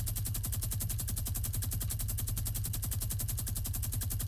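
A video-game minigun fires without pause, producing a dense, rapid, perfectly even stream of loud gunshots that runs unbroken from start to finish.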